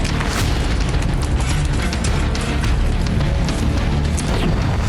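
A Russian FAB-500 bomb strike in Kupiansk sets off a dense, sustained roar of blast noise with crashing, popping bursts. The sound stays loud and continuous and fills the whole stretch.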